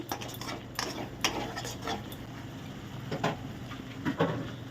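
Spices with chili paste and chili powder stir-fried in a pan for bhuna khichuri, heard as soft repeated scraping and clinking of a spoon against the pan, faint and close.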